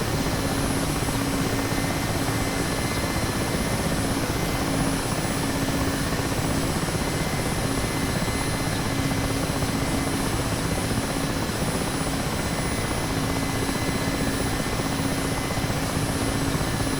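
A Mi-8 helicopter's engines run steadily during a cold start, a loud, constant turbine whine and rotor roar that continues unbroken throughout with no voices.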